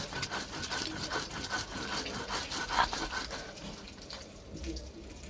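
Jackfruit seed mash is ground on a grinding stone in repeated rough scraping strokes, a rhythmic close rubbing sound that is moderately quiet and fades slightly toward the end.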